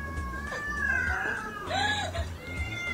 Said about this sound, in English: Help the cat.